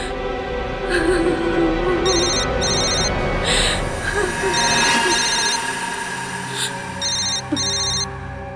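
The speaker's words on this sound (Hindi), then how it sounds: "फोन उठाओ, स्पीकर पे डालो।" A telephone rings in repeated short double trills, several rings in a row, under ongoing background noise and some speech.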